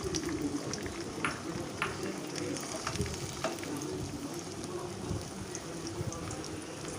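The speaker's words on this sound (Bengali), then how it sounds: "তেল গরম হওয়ার পর আমি এর মধ্যে ফেটিয়ে রাখা ডিমটা দিয়ে দিলাম।" Beaten egg frying in hot oil in a pan gives a steady, close sizzle dotted with small crackles and pops, continuous for several seconds with no talking.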